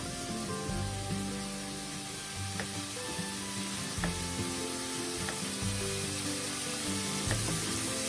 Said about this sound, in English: you can probably hear the fat back already starting to cook and fry and render in that cast iron frying pan